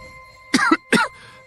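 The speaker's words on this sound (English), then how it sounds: "Cough, cough." Two harsh, close coughs in quick succession from a person, each a short raspy burst over a quiet background.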